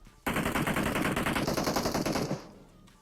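Rapid automatic gunfire from a video game, a sustained burst of closely spaced shots lasting about two seconds, loud and near, then tailing off into a quieter fade.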